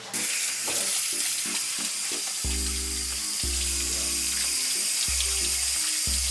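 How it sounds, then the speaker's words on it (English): Tap water runs steadily into a kitchen sink while hands are washed, a continuous hiss with intermittent low thuds and clunks, close and fairly loud with no talking. "Alright, I'm gonna wash my hands."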